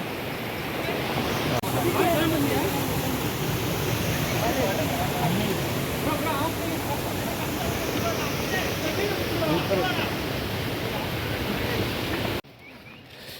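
A steady, dense rush of flowing water, loud and continuous, from a mountain stream at the source of the Netravati River tumbling over rocks in forest hills, cutting off abruptly near the end.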